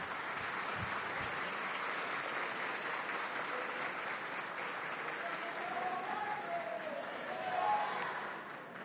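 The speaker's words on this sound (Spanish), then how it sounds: "gracias por esos aplausos." A crowd at a public social dialogue event in Arauca, Colombia, applauds President Gustavo Petro with steady, continuous clapping filling the whole stretch, a faint voice briefly rising near the end.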